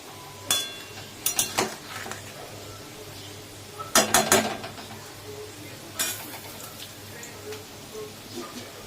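Metal lid set back onto a cooking pot of lentil fritter curry with drumstick stalks, giving sharp clattering clinks in short bursts, a louder cluster midway and a lighter one after, against a quiet kitchen background.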